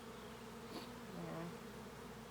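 Honey bees buzz steadily around a beehive with stacked boxes, a faint, continuous drone that swells slightly midway.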